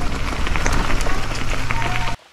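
Steady broadband rain patter during off-road cycling through a monsoon rainforest in Australia, loud and continuous for about two seconds before cutting off abruptly.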